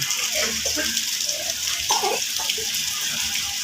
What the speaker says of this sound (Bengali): বৃষ্টির পানি পড়ছে গাছের মধ্যে